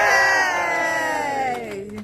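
A crowd cheers and whoops loudly at a ribbon cutting for the opening of a river respite retreat, as a single sustained shout of voices that fades toward the end.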